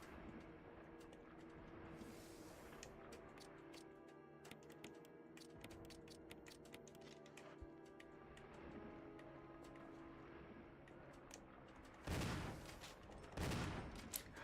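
Gunfire in the Resident Evil (2002) video game: a long run of sharp, rapid shots crackling in dense bursts, mostly quiet and distant, with two heavier, louder blasts near the end.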